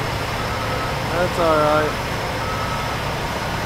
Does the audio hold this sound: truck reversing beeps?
yes